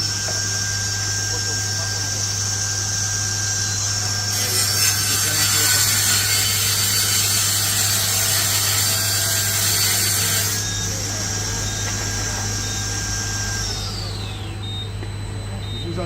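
A table saw, a CSC SYS 50 EBI, cuts through a melamine panel with a steady whine that deepens into a louder rasping cut for several seconds, then spins down as the blade slows.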